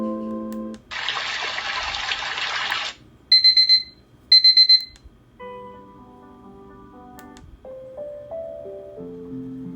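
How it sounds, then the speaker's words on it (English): A Dreamegg D1 Nova alarm clock runs through its nature alarm sounds: a burst of rushing water, then two rapid sets of high electronic beeps, then clear piano-like tones. Playback is close and clean with no talking. "You get 7 nature alarms like birdsong or piano."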